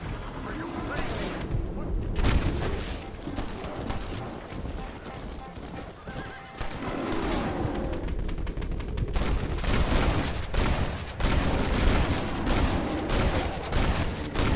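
Gunshots ring out in Red Dead Redemption as a bear is fired on, a dense barrage mixed with hoofbeats and horse whinnies. The shots are loud and close under excited shouting voices.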